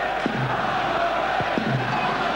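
Derby County fans in a stadium during a 2000 match against Liverpool: a loud, continuous roar of football crowd noise with scattered shouts and chants, distant and diffuse.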